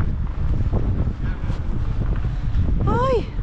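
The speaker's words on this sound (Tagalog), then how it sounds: "Malakas ang hangin tapos snowy." Strong, snowy winter wind in Finland roars and thumps against the microphone in continuous gusts, with a brief whistling squeal near the end.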